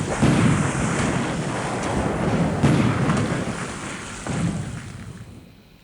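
Naval bombardment and battery fire against a fort in a War in the Pacific strategy game, heavy booming blasts rolling like thunder, loud and close, with a few distinct impacts that then fade.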